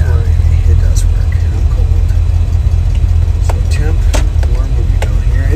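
A 1963 Chevrolet Impala's engine runs steadily after starting, a loud, even idle rumble throughout with a voice speaking over it.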